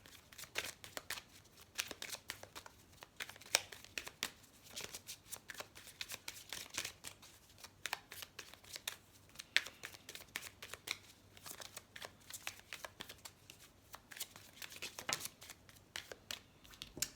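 Tarot cards are shuffled steadily for a reading, a dense run of soft, rapid riffling and flicking clicks that continues without pause, close and fairly quiet.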